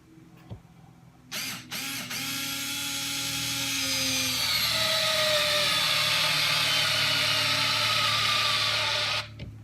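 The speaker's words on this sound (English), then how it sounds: "let's start off and see how it can do with some smaller screws" A TopShak 4V cordless screwdriver whirs up close, its motor pitch dropping and straining as a small screw drives into wood, followed by a brief stop.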